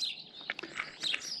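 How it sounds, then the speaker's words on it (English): Birdsong around a campsite, with repeated high chirps and short whistled calls coming in bursts over a quiet background, fairly near and clear, with no talking. "The birdsong is absolutely amazing."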